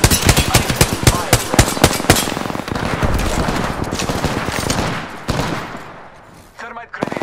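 Loud, rapid automatic gunfire from the Apex Legends video game rattles in dense bursts, then thins out into a few single shots near the end.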